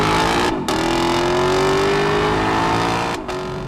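A Lexus V8 engine accelerates hard, a loud, continuous rising roar that climbs in pitch, breaks briefly at two gear changes, and then pulls again, heard up close from inside the car.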